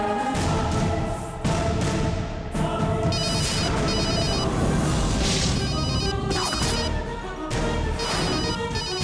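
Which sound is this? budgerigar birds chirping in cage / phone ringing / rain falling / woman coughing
phone ringing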